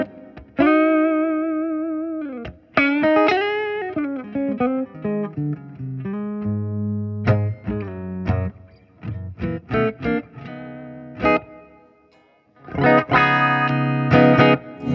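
A Chapman ML1 electric guitar played through distortion and chorus-style effects, with loud chords and single-note runs in bursts, short pauses between phrases, and a big ringing chord to finish.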